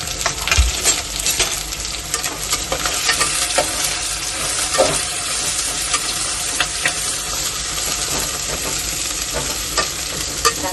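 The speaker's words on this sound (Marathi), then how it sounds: "कांदा घातला कांदा परतून द्यायचा" Sliced onion sautéing in hot oil with cumin and curry leaves for chicken rassa, a loud continuous sizzle with repeated spatula scrapes and stirring knocks throughout.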